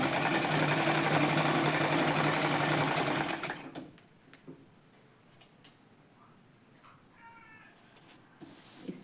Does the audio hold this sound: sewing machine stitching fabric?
yes